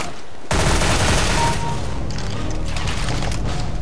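SCAR-H rifle fire in Counter-Strike: Global Offensive, a loud dense burst of rapid shots starting abruptly after a brief quiet and continuing steadily to the end.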